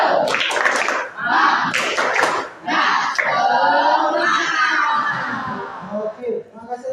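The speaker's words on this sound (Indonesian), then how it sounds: "Tepuk semangat." An audience joins in a rhythmic spirit clap at an indoor gathering, loud bursts of patterned clapping with cheering and shouted voices mixed in throughout.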